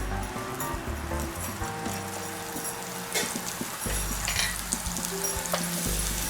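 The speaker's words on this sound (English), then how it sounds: "I'm gonna turn my skillet up on that, get that heated up, and then we're gonna start putting all of our ingredients in there" Ingredients sizzle in a hot skillet with a steady, moderate hiss, broken by occasional clinks and scraping knocks as food is layered in.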